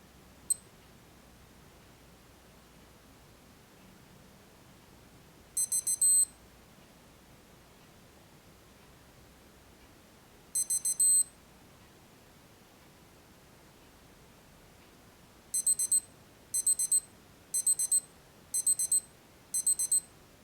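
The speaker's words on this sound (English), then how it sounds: "an alarm will sound once each interval timer is finished" A Casio WS-1600H digital watch sounds its interval timer alarm in short clusters of high, thin electronic beeps, first in isolated bursts and then in a faster run of five, against near silence.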